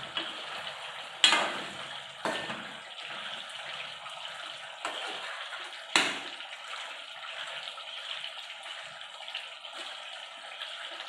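Beef curry with tomatoes stirred in a pan, a soft steady simmering sizzle broken by a few sharp scraping strokes of a spoon, close and fairly quiet, with no voices.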